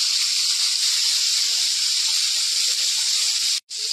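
Chopped onion frying in hot oil gives a steady, loud hiss for a few seconds, with one brief break near the end and no talk.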